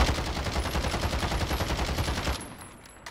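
Automatic gunfire from a video game weapon with heavy recoil, a rapid pulsing burst of loud shots lasting about two seconds before cutting off abruptly into a quieter tail.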